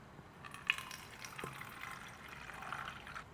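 Distilled water is poured into a blue bottle, a soft, faint splashing and filling sound with a small clink near the start, continuing quietly with no talk.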